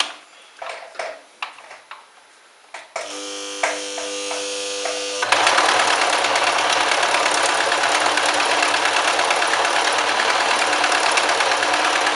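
A sewing machine stitches together the ends of a small fabric loop for a helmet-mounted home-built LED head light. A few light taps come first, then the machine runs with a steady, close, loud mechanical whir that keeps going to the end.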